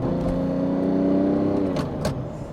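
A Lamborghini Diablo 6.0 V12 revving up toward 7,000 RPM, a loud, close engine note climbing and holding, then dropping off near the end.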